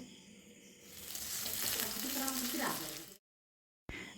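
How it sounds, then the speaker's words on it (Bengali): Onions sizzle and fry in hot oil in a pan, a steady loud crackle that continues before cutting off abruptly. "এখন পেঁয়াজগুলোকে ভেজে নিতে হবে লাল করে"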